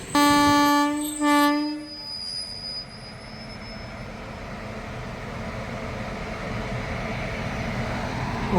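The Malabar Express at a station sounds a loud, sustained horn, then settles into a steady rumbling roar of the train moving nearby.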